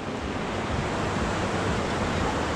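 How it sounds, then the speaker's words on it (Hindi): Hot spring water flows steadily from springs in Kasol, Himachal, making a dense, unbroken rushing hiss with no voices over it. "यहाँ पे बहुत सारे सोते हैं जिनसे गर्म पानी आता रहता है"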